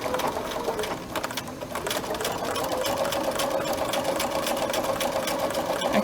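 A sewing machine runs steadily stitching a seam, a fast even mechanical whir with rapid clicking, close and continuous, with a brief slowdown near the start.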